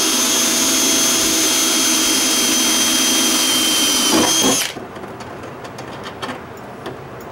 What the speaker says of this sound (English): So let's get this one drilled out.